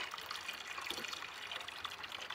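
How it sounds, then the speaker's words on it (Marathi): Water runs steadily into a container being filled, a faint, continuous trickling splash with no voices over it. "आता इकडे पाणी भरणं चालू आहे माझं।"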